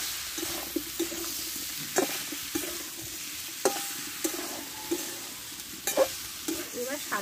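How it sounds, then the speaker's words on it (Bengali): Pumpkin stir-fried with spices and green chilli in a pan, a continuous sizzle punctuated by regular scraping and tapping of a spatula as the mixture is turned. "সবগুলো একসঙ্গে ভালোভাবে কষে নেব।"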